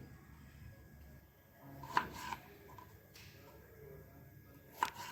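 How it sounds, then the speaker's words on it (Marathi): Spiny okra (kate bhendi) being cut with a knife, two faint, isolated sharp knife taps against a board a few seconds apart in a quiet room, with a voice talking softly. "या अशा कट करून थोड्या भेंड्या घ्यायच्या आहेत आपल्याला"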